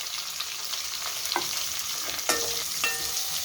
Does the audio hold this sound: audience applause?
no